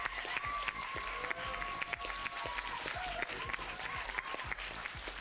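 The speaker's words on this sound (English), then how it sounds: "you will join me in giving a warm welcome to our mighty judge, Mr. Frank Saboti." A studio audience at a Bay Area Quiz Kids match applauds to welcome the judge, a steady patter of many hands clapping at moderate distance, with faint tonal sounds in the background.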